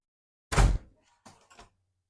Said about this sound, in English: Now this door isn't held on by any screws, you just pull it up.